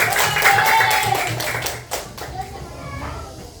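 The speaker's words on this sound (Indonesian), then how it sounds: "kelompok 1 dulu, tepuk tangan anak" A classroom of schoolchildren claps for the first group, a burst of irregular hand claps with some rhythmic beats, fading after a couple of seconds into scattered taps amid children's chatter and voices.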